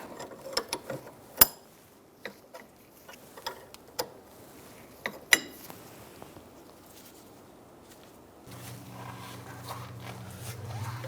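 A wrench clicks and ratchets while tightening bolts on the rear parking brake cable of a 2007-2012 Nissan Altima, with sharp irregular metallic ticks close by, then a low steady hum at the end.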